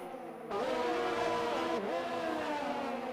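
A racing car engine in a Formula 1-style racing game roars loudly, its pitch dropping sharply once as it shifts down, then climbing again in a steady whine.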